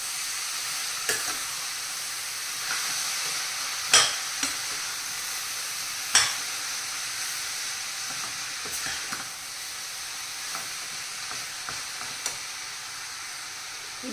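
Grated beetroot for a palya frying in a pan, a steady soft sizzle throughout with occasional sharp scrapes and clinks of a spoon stirring against the pan, no voices.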